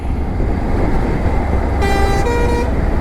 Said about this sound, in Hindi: इस रोड पर भी थोड़ा सा ट्रैफिक है।